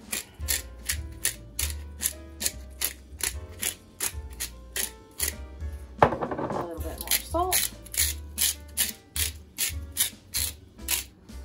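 A pepper mill grinds pepper over layered chicken and potatoes, giving a steady run of short rasping cranks in a regular rhythm, close and moderately loud, with a brief clatter of pans partway through.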